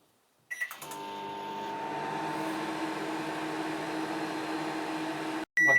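Microwave oven heating Maggi noodles: a click and a few beeps, then a steady low electrical hum runs for several seconds before cutting off, followed by another short beep.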